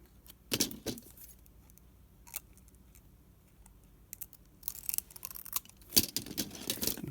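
Scissors snipping the outer edge off a sheet of paper in a craft session, a few crisp cuts and rustles in short bursts separated by quiet gaps, close by.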